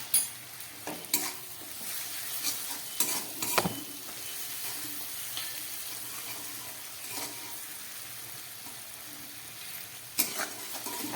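Chilli, cumin and salt sizzle and fry in a pan for a paneer malai curry, with a soft continuous sizzle broken by sharp clinks and scrapes of a spoon stirring every few seconds.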